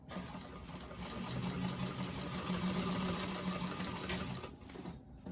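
A sewing machine runs steadily, stitching a top stitch on a handmade bag, its fast needle chatter and motor whir continuous for several seconds before a brief stop.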